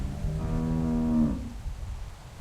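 A single cow moos in a barn in the video game The Walking Dead, one clear drawn-out low call lasting about a second, close and alone against quiet room tone.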